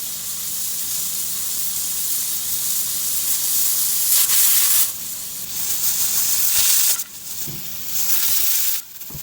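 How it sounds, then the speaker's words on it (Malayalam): A pressure cooker cooking wheat and fenugreek porridge hisses loudly and steadily, the steam surging in strong bursts and cutting out briefly a few times near the end. "പ്രഷർ കുക്കറിനെ ഞാൻ അടച്ചു വെക്കുകയാണ് ഞാൻ ഇവിടെ മൂന്ന് വിസിൽ വരുന്നത് വരെ വെയിറ്റ് ചെയ്യുന്നുണ্ട്"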